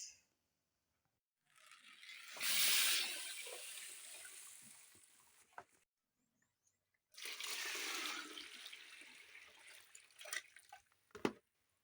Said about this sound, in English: I'm going to wash it now very well so that there will be no